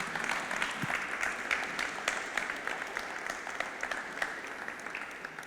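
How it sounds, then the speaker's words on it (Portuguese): A church congregation at a Thursday worship service claps together in steady, sustained applause that fills the room evenly for several seconds. "Dá uma salva de palmas para Jesus."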